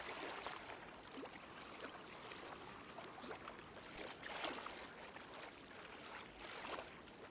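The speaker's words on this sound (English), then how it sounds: "Listen to those waves." Gentle ocean waves lap and wash against a shore in the survival game Deadside, a soft, continuous rushing hiss that swells and recedes in slow surges, faint and unaccompanied by voices.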